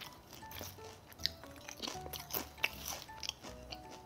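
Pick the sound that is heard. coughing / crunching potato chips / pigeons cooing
crunching potato chips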